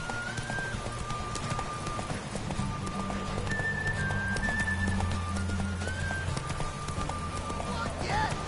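Roach the horse gallops in The Witcher 3, hooves clip-clopping in a steady rapid rhythm under continuous game music and ambient noise, with a brief neigh-like tone, throughout the whole stretch.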